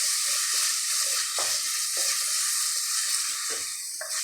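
Ginger garlic paste sautés in a pan for mushroom biryani, giving a loud, close, continuous sizzle and crackle broken by a few scraping stirs of a spatula.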